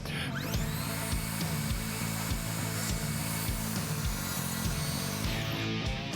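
A saw cuts through a wooden board while a wheeled workbench is being built, giving a close, continuous whining buzz with regular rhythmic pulses and no talking.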